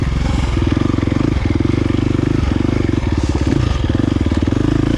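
A 2023 KTM 350 XC-F dirt bike with a dragging clutch sits at a standstill in neutral, its engine droning loud and close while it is revved in short repeated swells over a steady idle.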